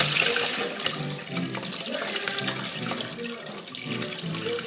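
Liquid bone broth pouring and draining through a colander into a large bowl in a kitchen sink, a continuous close splashing gurgle with brief bursts and no talk.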